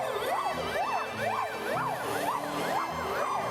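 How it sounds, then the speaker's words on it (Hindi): An ambulance siren wails in a village, its rising and falling tone cycling steadily and loudly over a low engine rumble, with no one speaking. "गांव में एम्बुलेंस पहुंचने लगी थी"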